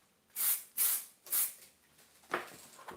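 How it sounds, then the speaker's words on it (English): Fixative sprays over a drawing in three quick close hissing bursts, evenly spaced, then a softer fourth spurt after a pause, with silence between. "the first thing I do, I spray fix what I did before"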